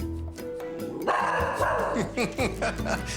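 A dog barks excitedly at a cat, giving a string of quick, sharp barks and yips close by while people talk over it.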